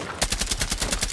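Rapid automatic gunfire in Rainbow Six Siege, a close, loud burst of about ten evenly spaced shots.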